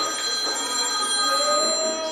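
Mobile phone ringing in a room: a steady electronic ringtone with bright sustained tones, fairly loud, heard without talking.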